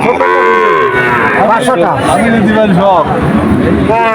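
Calves at the Betaga cattle market low loudly and close by in repeated overlapping moos, with crowd murmur beneath.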